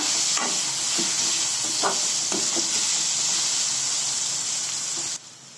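Sautéed raw mango with salt is stirred in a pan, a soft steady sizzle with light scraping strokes of a spoon, before the sound cuts off near the end.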